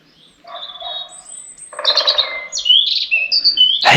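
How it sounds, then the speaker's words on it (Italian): Bird calls on a forest nature trail in Val Borago, a woodpecker by the walkers' account: a series of clear chirps and tweets of varying pitch, fairly close and loud, with no talking. "È il picchio."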